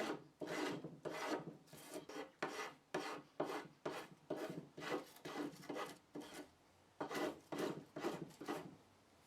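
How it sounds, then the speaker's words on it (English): A sharp spokeshave rounds the edges of a softwood mallet handle blank in a steady series of quick, close rasping strokes, each a short scraping pull with brief gaps between. "round off all the edges of the handle blank using a spoke shave"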